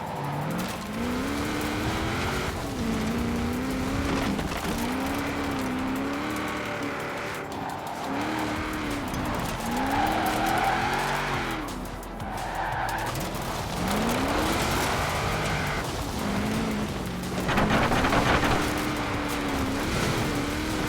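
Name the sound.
car accelerating in the video game Forza Horizon 4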